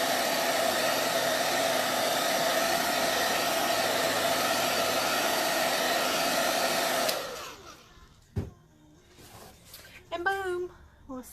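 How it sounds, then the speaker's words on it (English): A hair dryer blows loudly and steadily for several seconds, then switches off, followed by faint handling noises and a voice speaking. "Just get a hair dryer."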